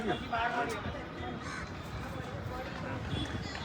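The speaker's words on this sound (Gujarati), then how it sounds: "અને કાગડો બોલે" A crow caws a few times at a distance in Jamnagar, harsh and repeated, over a bed of background noise and faint voices.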